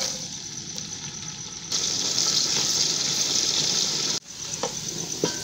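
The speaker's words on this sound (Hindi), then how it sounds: "अब हम इसमें कटे हुए प्याज डालेंगे।" Chopped onions sizzle and fry in hot cooking oil in a pot for egg biryani, a steady loud hiss that jumps in intensity midway, then briefly cuts out before resuming with small pops.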